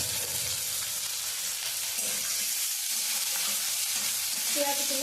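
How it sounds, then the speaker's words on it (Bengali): Onions frying in a pan with green chillies and spices for a banana-flower curry, a continuous close sizzle with light stirring, steady and fairly quiet, a brief clatter near the end. "পেঁয়াজগুলো ভালোভাবে ভাজা হতে থাক।"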